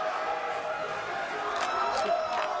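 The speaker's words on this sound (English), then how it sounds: "Crowd here in Brooklyn, there's the Polish contingent. They're on their feet." Boxing crowd in an arena in Brooklyn during the Ishe Smith vs Pawel Wolak fight, a steady roar of spectators with a Polish contingent on its feet, cheering and shouting rising in short bursts over the constant din.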